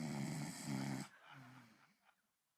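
Recorded snoring played back from a vinyl record: a loud, rasping snore for about a second, then quieter, fading breathy snore sounds trailing off into silence.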